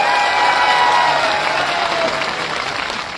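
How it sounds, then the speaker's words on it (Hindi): A crowd at an outdoor protest sit-in in Bikaner to save khejri trees breaks into loud, sustained applause with some cheering, the clapping gradually tapering off. "जोरदार तालियां से स्वागत"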